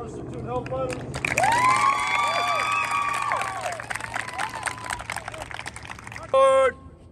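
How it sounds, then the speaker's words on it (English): A crowd of family visitors applauds and cheers loudly for a platoon of cadets at an outdoor drill and ceremony performance, with sustained clapping and whooping voices throughout, ending in a brief loud burst. "another round of applause for First Platoon Help Fighters."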